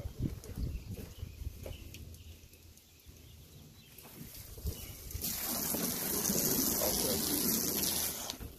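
Water runs steadily from a tap, rising into a loud, bright, continuous rush during the second half after a soft, murky start.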